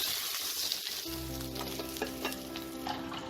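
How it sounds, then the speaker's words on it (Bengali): Bhetki fish pieces frying in hot oil give a close, crackling sizzle, with a low steady hum entering partway through as the frying goes on. "তুলে আমি আরও যে যতগুলো মাছের পিস আছে সবগুলোকে ভেজে নিয়ে রেডি করে নেব।"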